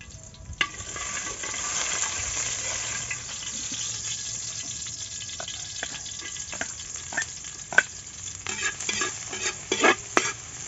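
Soaked and boiled bamboo shoots cook with kamias and spices in a pan, with soft sizzling and repeated scraping, clattering stirs, fairly quiet and close.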